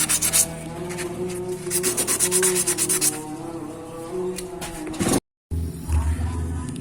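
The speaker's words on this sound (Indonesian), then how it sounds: "Jadi kita amplas sampai terasa halus." Rhythmic rasping strokes of sandpaper rub against a Bajaj Pulsar 180 clutch plate, fast and close, pausing briefly before resuming near the end.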